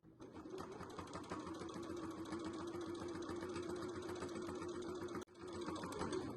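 Sewing machine running steadily, topstitching along the very edge of a tricoline lining on a waterproof twill scissor holder; close, continuous mechanical whir with a brief pause near the end before resuming.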